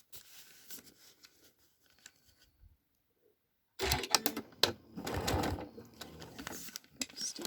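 A sewing machine stitches folded paper piecing in a quiet room. A short soft run and some handling noises come first, then a longer, loud burst of close, rapid stitching.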